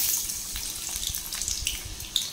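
Chopped onion drops into hot boiling oil in a pan while homemade hair oil is made, giving a steady close crackling sizzle with scattered sharp pops.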